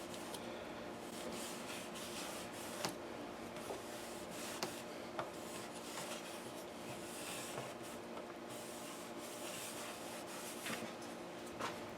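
A dry cloth rubs over a Martin acoustic guitar during a neck reset and bridge re-glue, making a faint, continuous soft swishing scrub with no voices.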